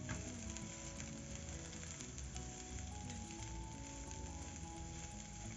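Meat pie filling with coriander being stirred in a hot pan gives a steady, close sizzle with faint scraping and clinking of the utensil against the pan throughout.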